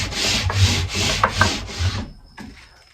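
Hand-beveling the point of a dogwood arrow shaft: four close, rhythmic rasping strokes of wood being rubbed and shaped, then a faint softer stroke after a short pause.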